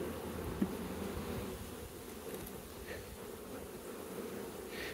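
A large honeybee mating swarm drones steadily, a dense continuous buzz from many insects that holds at an even level throughout, with no voices.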